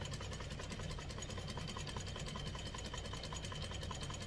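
Sewing machine running steadily while top stitching a fold-over clutch, a continuous rapid mechanical whir and needle chatter, close and even throughout.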